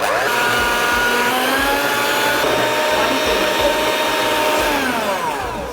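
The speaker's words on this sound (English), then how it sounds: "You want to whisk that together for about 3 minutes." Caster sugar and two eggs being whisked with an electric mixer for a gluten-free butternut streusel cake, a steady loud motor whir running continuously with a shifting pitch and no talking.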